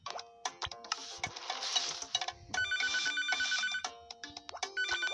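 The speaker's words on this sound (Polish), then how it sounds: "Zamówienie będzie teraz telefoniczne." Electronic telephone ringtone from the cooking game Papa's Sushiria To Go, repeated bright ringing bursts mixed with short game beeps and chimes, close and loud with no talk.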